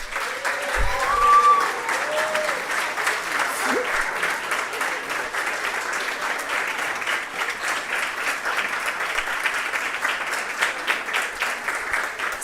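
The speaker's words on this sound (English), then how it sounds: "But for Yukari, she deserves a standing ovation." Sustained applause from a ceremony audience giving a standing ovation at a company quality-week closing event, dense steady clapping from many hands that stays even and loud throughout, with a few voices briefly audible at the start.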